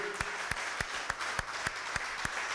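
A church congregation claps together in a steady rhythmic beat, roughly three claps a second, over a soft crowd wash, heard at a middle distance.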